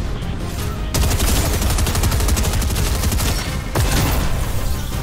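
Fortnite gunfire, loud close automatic bursts that rattle almost continuously for about three seconds, pause briefly, then resume with another rapid volley; no voices.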